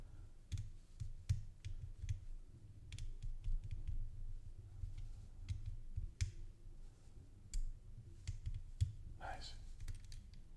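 Clicking of moving LEGO parts on an Insect Collection beetle body build, a scatter of small, close, sharp plastic clicks and snaps spread irregularly across the span, with a low steady hum underneath.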